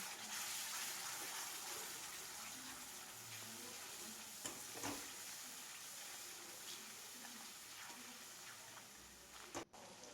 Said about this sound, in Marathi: आता यात हे परतून ह्याच्यात आता मसाला टाकून एक ते दीड मिनटं छान भाजून घ्यायचं आहे